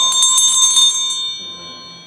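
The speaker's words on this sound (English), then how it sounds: "Here's the bell." An old recording of a church bell from an Indian Shaker Church service, 1910, rings in a steady run of bright strikes for about a second, then fades into a lingering hum, with no voices.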